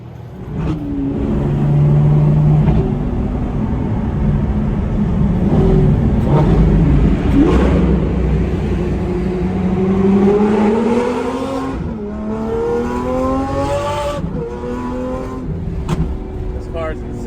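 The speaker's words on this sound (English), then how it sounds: "Nothing like a V12 Aventador" The V12 engine of a Lamborghini Aventador SVJ with a gated manual shifter runs loud and close as the car drives, rising and falling with throttle, while people talk over it.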